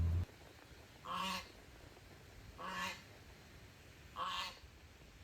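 Three separate honking duck calls spaced about a second and a half apart, moderately near, over a quiet lakeside background with no talking.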